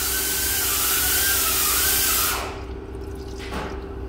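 Engine oil draining from a Ram Big Horn truck during an oil change, a steady pouring hiss with a faint whine that stops abruptly midway, leaving quieter drips and a brief clink.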